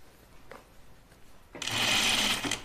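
A sewing machine runs in one steady, loud burst, understitching the facing of a Colette Myrna dress; it follows a quiet stretch with a faint tap.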